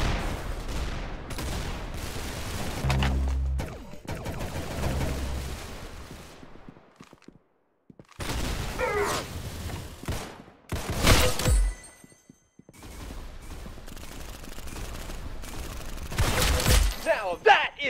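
Bursts of gunfire in the Roblox shooter Arsenal, with sharp shots and rapid volleys broken by short quiet gaps across a fast-paced match, while other game sounds mix in.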